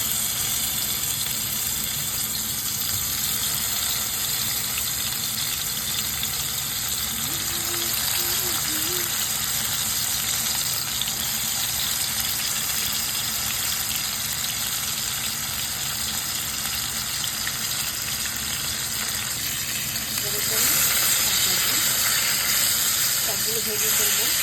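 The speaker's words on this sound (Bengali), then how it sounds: "এখন আমি একে একে করে মাছগুলো সব ভাজতে দিয়ে দেবো।" Hilsa fish frying in hot oil in a pan gives a steady, dense sizzling hiss that runs unbroken throughout and swells louder in the last few seconds.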